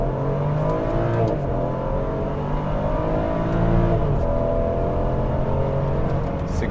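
A 2013 BMW X5 xDrive35i pulls away hard from a brake-torque launch on a flat, empty road, its engine loud and close, climbing steadily through the revs with a strained whir.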